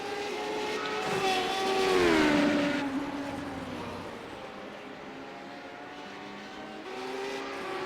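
A Radical race car at Road Atlanta revs hard with a loud, high-pitched engine whine that rises through the gears, peaks, then eases and drops back before building again, heard from on board.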